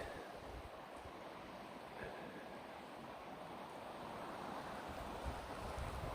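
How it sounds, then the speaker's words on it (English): Strong wind roars steadily in snowy Pennsylvania wilderness, buffeting the microphone with a constant low rumble and whooshing gusts outdoors. "Very windy."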